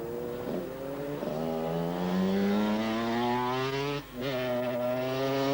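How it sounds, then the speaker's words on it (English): A loud big four-stroke enduro motorcycle engine, over 500cc, drones steadily, its pitch rising gradually as it accelerates, with a brief dip near the end before resuming. "We're now thumping along with the big over 500cc four strokes."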